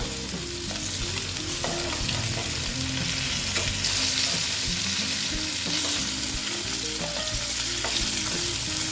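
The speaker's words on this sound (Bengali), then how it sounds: "এটা মাছটা প্রায় ভাজা হয়েই গেছে আমি আর এর থেকে বেশি কড়া ভাজবো না" Koi fish frying in a pan of hot oil, a steady dense sizzle and crackle running throughout with occasional stirring clinks, loud and close.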